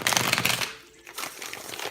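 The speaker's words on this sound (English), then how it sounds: "Now I'm going to shuffle your cards" Tarot cards shuffled by hand in a brisk papery riffle, a dense crinkly flutter that pauses briefly in the middle before resuming at a steady, close level.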